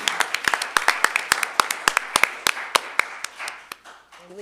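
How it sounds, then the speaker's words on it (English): Sparse audience clapping at a school board meeting, a few distinct hands heard as crisp, close claps in an uneven rhythm that thins out toward the end, with a brief voice at the close. "Let's give them all a wonderful round of applause."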